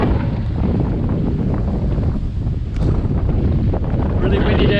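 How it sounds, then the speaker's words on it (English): Strong typhoon wind gusts along a coastal road at Hac Sá in Macau, a steady, loud rushing roar buffeting the microphone with little letup. "That wind is strong."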